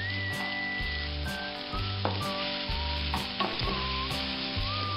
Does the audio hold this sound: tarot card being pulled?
no